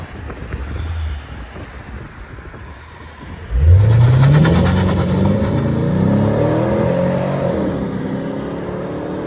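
A Pontiac G8 GT with its 6.0-litre V8 and Borla S-type catback exhaust idles with a low rumble, then revs up hard into a loud rising roar that settles into a sustained, steady drone, with wind noise on the mic.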